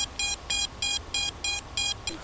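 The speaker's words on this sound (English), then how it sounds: "So you can hear a beeper." The beeper on a crashed HGLRC Sector 5 FPV drone sounds in a steady pattern of short, loud electronic beeps, about six evenly spaced bursts, alone against quiet outdoor background.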